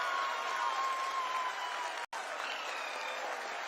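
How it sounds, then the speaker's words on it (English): Crowd applause at the Chandrayaan-3 lander soft-landing event, a steady wash of many hands clapping at moderate distance, with a brief dropout midway and faint voices mixed in. "People are applauding."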